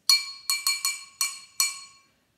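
A pencil taps a glass partly filled with water six times in an uneven rhythm. Each strike is a clear, close, ringing ping that fades quickly before the next one.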